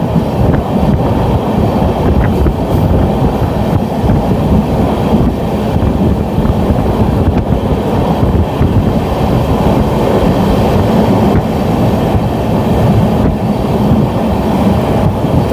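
Steady loud rumble of the Guwahati–Sairang Express running through Hartoki station on an unelectrified line, heard from on board, with continuous low wheel and carriage roar and faint rattling throughout, no talk.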